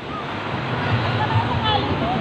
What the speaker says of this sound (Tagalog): Ayan ang alon. Malakas.